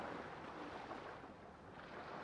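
Ocean surf washes steadily onto an island shore in the remote Phoenix Islands, a soft continuous hiss of breaking water with light wind, no voices.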